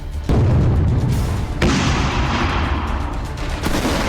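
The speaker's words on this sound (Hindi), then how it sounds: "कदम कदम पर धमाके हो रहे हैं।" Heavy booms of artillery and explosions in the Russia-Ukraine war hit in sudden loud onsets, followed by long rumbling roar and crackle, continuous and dense throughout.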